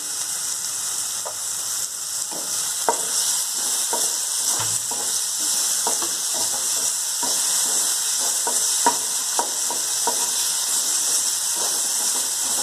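Oil sizzles steadily in a pan as red tomatoes, chilies, cumin and garlic roast for a thecha chutney, a dense hiss broken by frequent small pops and crackles, close and constant with no voices.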